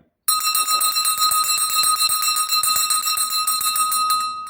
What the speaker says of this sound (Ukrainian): шкільний дзвіночку, пролунай! Гучніше дзвонику, гучніше ти лунай.